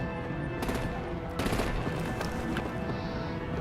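Artillery and heavy gunfire in the Batman Telltale game, a dense, continuous barrage of rapid automatic shots with louder blasts punching through, close and loud throughout.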